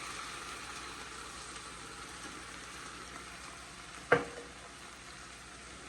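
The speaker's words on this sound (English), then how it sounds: "So I'm just gonna add my sauce on there." Alfredo sauce goes into a pan of chicken frying, giving a faint, steady sizzle broken once by a single sharp clack of a utensil or can near the end.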